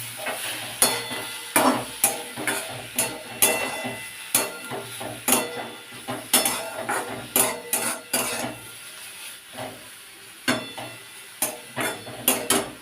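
A spoon scrapes and clinks against a pan while a watermelon rind mixture with a pinch of salt is stirred, giving repeated sharp metallic taps in an irregular rhythm, close and fairly loud, with no talking.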